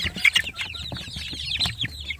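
Village chicks in a brooder box make rapid, high, close peeping chirps in overlapping bursts, with soft scuffling underneath.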